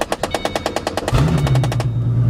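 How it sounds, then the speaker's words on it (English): A car engine struggling to start: about a second of rapid, evenly spaced cranking pulses, then the engine catches and settles into a steady low running hum. "how much it struggled to turn on my car?"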